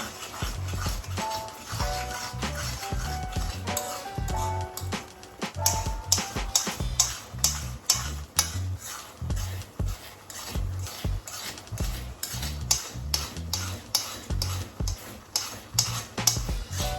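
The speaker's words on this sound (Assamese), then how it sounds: "আমি যেতিয়ালৈকে ভাজিব লাগিব যেতিয়ালৈকে গোল্ডেন নহয়" Rhythmic metal scraping of a spatula stirring food in a wok, close and steady, with a soft sizzle running underneath.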